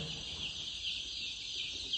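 Steady chorus of many poultry chickens clucking and chirping together at close range, a continuous bustling flock with no talk.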